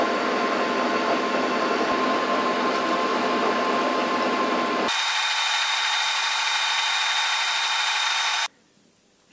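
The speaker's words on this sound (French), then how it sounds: "Je tronçonne pour laisser une tête de 3 mm." Metal lathe parting off a small workpiece to leave a 3 mm head, a loud continuous machining whine and hiss that shifts tone partway through and then cuts out near the end.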